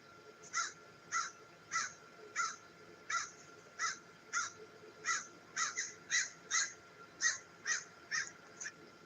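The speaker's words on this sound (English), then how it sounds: "This bird is not happy about me." A bird, sounding like a crow, gives a long series of agitated caws at a moderate distance, about a dozen and a half evenly spaced calls that speed up toward the end, with no talking.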